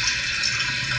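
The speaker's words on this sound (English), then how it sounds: "Handle, which flushes the toilet." A Kohler toilet flushes with a steady, loud rush of water close by, heard alone with no voices.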